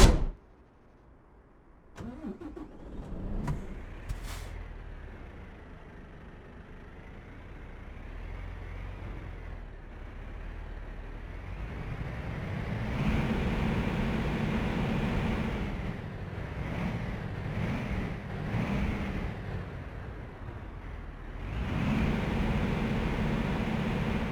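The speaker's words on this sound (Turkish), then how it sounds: "Motor sesine, çalışma sesine bir bakalım arkadaşlar." A Volvo FH 780 hp truck engine idles with a steady low rumble heard from the cab, starting with a few clicks and knocks, then rising into a fuller drone and a couple of revs.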